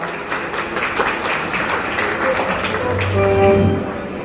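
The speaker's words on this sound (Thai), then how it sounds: "ปรบมือต้อนรับทั้งสองท่านด้วยครับ" An audience at a provincial OTOP community products event in Nonthaburi applauds to welcome two guests, a moderate, even wash of clapping with some louder claps near the end.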